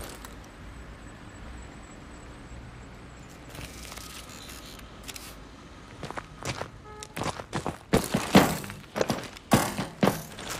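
Magnetic grip gloves clamp onto a wall during a climb in Call of Duty: Advanced Warfare, giving a run of sharp, heavy thunks and clanks that start sparse and grow louder and denser toward the end.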